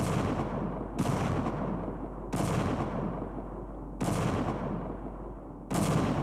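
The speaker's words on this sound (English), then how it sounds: "We use this howitzer." A rapid-firing howitzer with a gun shield in Half-Life booms out five heavy blasts at roughly one-second intervals, each a sharp loud crack followed by a rumbling decay, with no voices.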